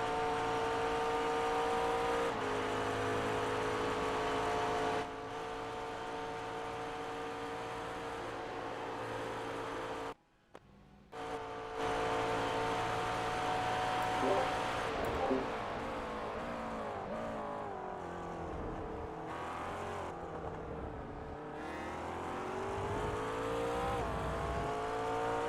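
A McLaren GT3 race car in a Spa 24 Hours racing game roars steadily near and loud, its engine note climbing and falling through gear shifts, with a brief dropout partway through and no talk.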